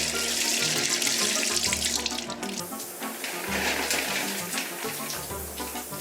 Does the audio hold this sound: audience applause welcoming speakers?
no